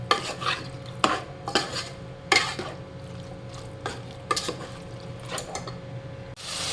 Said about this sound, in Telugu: వేసుకొని బాగా కలపాలి.